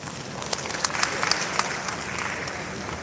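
An audience applauds a lecturer at a professional development session, a soft, steady patter of many hands with a few sharper individual claps standing out.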